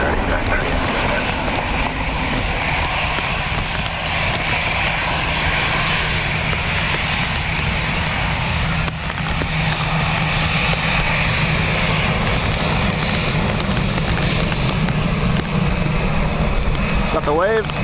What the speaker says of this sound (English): Clear for takeoff 10 right, Liner 893.